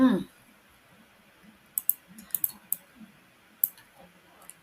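Sparse keyboard clicks tapped out on a computer keyboard in a quiet room, a few quick keystrokes in small clusters with gaps between them, faint and close.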